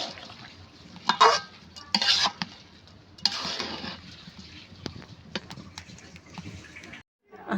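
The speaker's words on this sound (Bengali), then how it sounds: "এইবার সুন্দরভাবে চালটাকে কষিয়ে নেব।" Rice being stir-fried in a pot for vegetable khichuri with lentils, a spoon scraping and clinking against the pot in irregular strokes over faint sizzling, fairly quiet and close.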